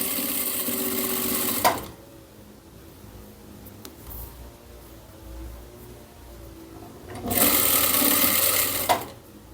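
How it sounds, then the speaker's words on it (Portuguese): A 5-thread chain stitch overlock sewing machine with a 6 mm stitch width sews a small child's pyjama top, whirring loudly in two bursts separated by a quieter pause with faint handling noises. "A minha máquina, como ela é uma máquina de 4 fios, de 5 fios, uma ponto cadeia"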